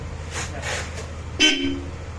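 A single short aftermarket electric horn blast on a Yamaha NMAX V3 scooter rings out sharply, following softer hissing passes over a low idling engine hum.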